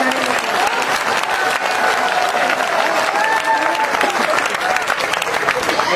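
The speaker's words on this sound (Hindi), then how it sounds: "ताली वाली बजाओ एक बार यार।" Loud, sustained clapping from an audience at a Hindi kavi sammelan poetry recital, a dense continuous wash of many hands with faint voices mixed in.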